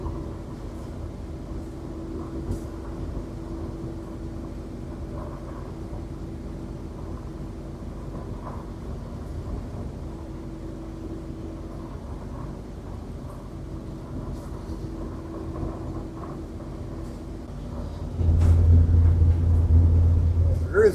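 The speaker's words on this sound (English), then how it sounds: "There is a train going in front of us." A long train passes in front of a stopped vehicle out west, making a steady low rumble with faint rail clatter that runs throughout and then swells louder and closer near the end.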